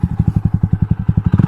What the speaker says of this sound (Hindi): तो ये है अपना एग्जॉस्ट साउंड, काफ़ी सारा बैकफायर मार रहे हैं इसमें।